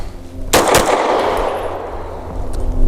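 A SAR USA B6C pistol fires two rapid, loud, close shots back to back, followed by a long rumbling echo that slowly fades.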